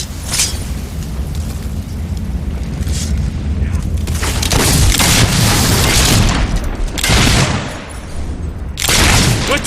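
Gunfire and booming blasts fill a combat scene in the video game Fable 3, loud and dense, with heavier bursts of shots rising in waves over a rumbling background.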